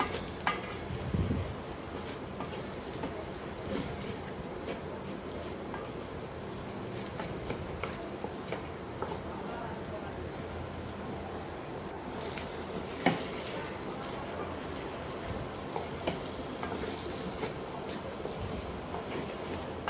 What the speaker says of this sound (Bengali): একটু মাছের ডিম ছিল, ওটা দিয়েছি ভাজিতে